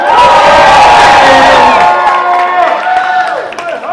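A crowd at an indoor event screams and cheers loudly, a sustained roar of shouting voices that tapers off over a few seconds.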